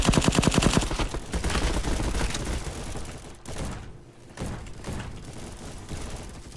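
Rapid automatic gunfire bursts in the Roblox shooter game Bad Business, loud and dense, then sparser shots after a short pause.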